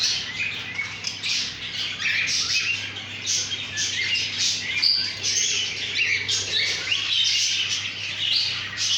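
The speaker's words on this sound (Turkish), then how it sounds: "Erkek sultan ötüyor yuvanın içinde." A male cockatiel in a nest sings and chirps continuously in a run of bright whistles and squawks, close and steady, with no talking.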